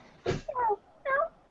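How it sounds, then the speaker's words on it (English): A pet cat meows twice in quick succession, clear and close, after a brief rustling burst, with no talk over it. "Can I bring my cat?"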